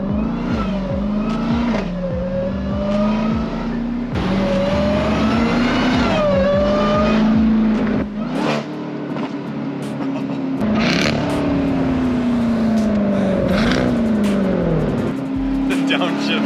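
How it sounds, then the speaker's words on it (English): A Jeep Grand Cherokee Trackhawk engine revs hard and drops through gears while driving, its loud roar rising and falling with repeated downshift blips, sustained close up under occasional talk from the occupants. "The downshifts are nuts."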